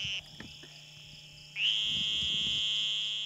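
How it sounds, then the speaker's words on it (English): A Sonoran green toad gives a long, shrill, insect-like buzzing trill during summer breeding, sounding briefly, pausing, then resuming as a strong steady drone over faint background noise. "This is the Sonoran green toad. They make this sound during the summer breeding season."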